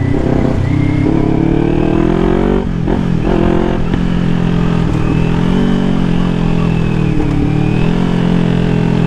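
A Kawasaki Ninja 400 motorcycle on a ride, its engine droning steadily and loudly close by with rising and falling revs and wind rush throughout.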